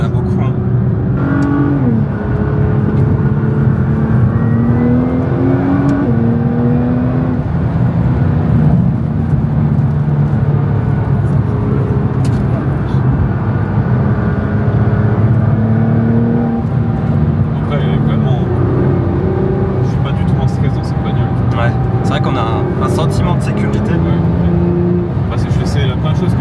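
A Nissan GT-R R35 supercar engine hums and drones steadily from inside the cabin while driving, with shifting revs and gear changes running continuously under ongoing conversation.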